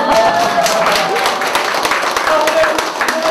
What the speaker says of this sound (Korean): 전국에서 오신 여러분들 자신을 위해서 박수 한번 치겠습니다